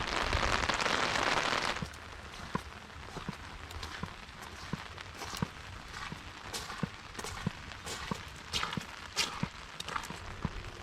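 Rain falling outdoors near a roofed cover, a brief louder hiss at the start and then a soft steady patter with scattered sharper drips and taps.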